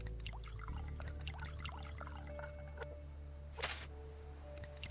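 Dirty water from a canteen pours into a container in a survival video game, a soft steady trickle running under a faint background hum, with one brief louder splash near the end.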